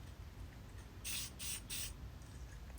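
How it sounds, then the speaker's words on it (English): Black paint-and-primer spray aerosol on the headset cups of a 1993 Cannondale R400 bicycle: three short hissing bursts in a row, close and fairly loud over a low background hum, with no talking. "Then we'll go through with a bit of black spray paint."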